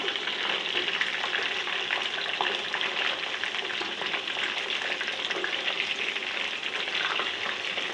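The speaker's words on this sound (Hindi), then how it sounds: "बस ड्रम स्टिक्स कितने मज़े के फ्राई हो रहे हैं।" Chicken drumsticks deep frying in hot oil make a loud, dense, continuous crackling sizzle that holds steady throughout, heard up close with no talking.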